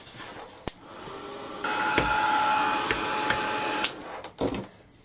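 A heat tool blows steadily to heat-set paint, a whirring hiss that switches on, runs for about three seconds with a faint tonal whine and a few clicks, then cuts off.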